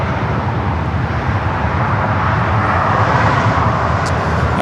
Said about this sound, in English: That is a Delta A330 pushing back